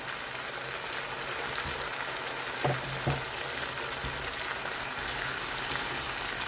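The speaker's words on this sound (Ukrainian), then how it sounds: "Гарненько перемішуємо, щоб ніби обсмажились разом" Food in a skillet hisses in a soft, continuous fry, with a couple of faint taps and scrapes from stirring; quiet and close, with no talking.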